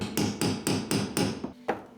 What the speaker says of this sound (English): I tried to mark the holes with a way too big hammer